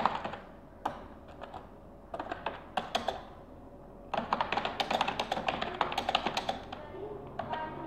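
Typing C code on a computer keyboard: close, crisp key taps, first in scattered short runs and then in a quicker steady stream of clicks, with a faint background hum.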